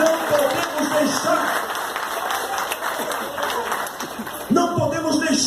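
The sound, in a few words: congregation applauding in church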